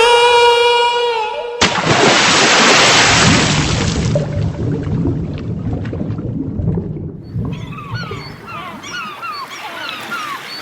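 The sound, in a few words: rough ocean waves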